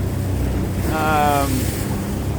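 Carbon catamaran slicing through rough water on the Columbia River at Hood River at around 17, with a steady loud rush of wind and spray and a brief whine in the middle.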